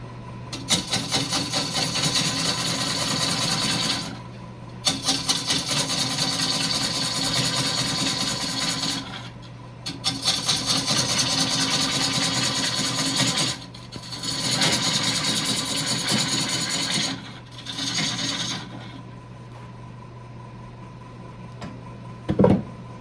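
A wood lathe turns while a gouge cuts the spinning workpiece in three long passes of dense ripping chatter with short breaks between them, then a quieter hum of the lathe running with a brief knock at the end.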